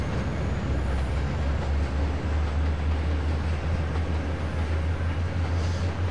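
Train in the Trainz railway simulator pulling carriages under throttle, with a steady low engine drone and continuous rolling rail noise running evenly throughout.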